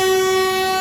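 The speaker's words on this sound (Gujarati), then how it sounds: "હા, આપણે ટ્રેન હાલતી થઈ ગઈ છે." A train horn blares loud and close as a train on a wet, rainy track begins to move, one sustained, steady brassy tone that fills the whole short stretch with no talk.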